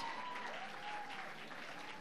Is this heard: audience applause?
yes